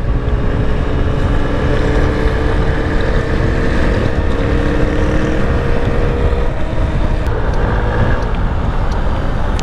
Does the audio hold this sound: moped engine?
yes